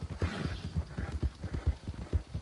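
A horse's hooves clip-clop in a steady, uneven rhythm in the video game Red Dead Redemption 2, soft and fairly close, with no voices.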